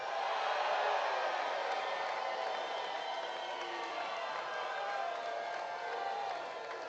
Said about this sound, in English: you hear the crowd behind us. They are going absolutely crazy.